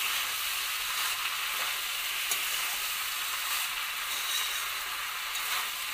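Spiced basmati rice sizzling in a hot pan while being fried for Bengali-style masala khichuri, a continuous close crackling hiss with faint occasional stirring scrapes, no talking.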